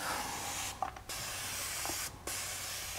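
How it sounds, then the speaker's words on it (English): Turtle Wax Hybrid Solutions interior misting detailer sprayed onto a car door, two short hissing bursts of fine mist over a steady background hum, close and moderately loud. "now we'll give the door a spray down"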